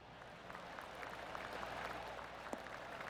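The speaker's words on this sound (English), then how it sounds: "Oh, golf clap." Golf crowd applause in PGA Tour 2K25 on PS5: a faint, steady patter of many hands clapping at a polite level, a few sharper claps standing out, with no talk over it.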